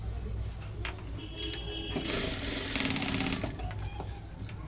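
A sewing machine stitches cross strips of fabric for a blouse, running in a steady close whir that builds into a denser, faster burst of stitching midway before settling back.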